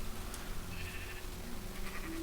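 Sheep bleating in Minecraft farm gameplay, a steady soft bleat with a couple of short tonal calls over faint background, no talking.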